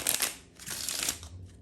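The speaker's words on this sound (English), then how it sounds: "you can shuffle, doing the bottom card first and the top card last" A deck of playing cards is shuffled by hand in a Hindu shuffle, giving two short bursts of papery riffling close by and a brief pause between them, with no talking.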